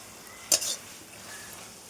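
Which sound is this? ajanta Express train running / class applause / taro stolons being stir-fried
taro stolons being stir-fried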